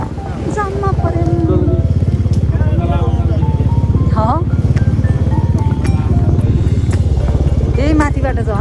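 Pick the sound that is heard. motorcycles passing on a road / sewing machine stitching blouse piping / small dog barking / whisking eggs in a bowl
motorcycles passing on a road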